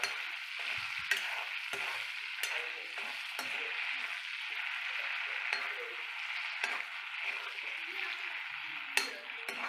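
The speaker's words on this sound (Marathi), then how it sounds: "आपण आता ह्याला चांगलं हलवून घेऊया" Fennel seeds and spices sizzle in oil in a pan while being stirred, a soft continuous frying hiss broken by repeated scraping and clinking strokes of the spoon, close and fairly quiet.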